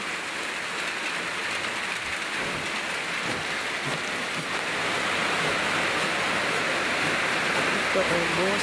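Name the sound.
heavy pouring rain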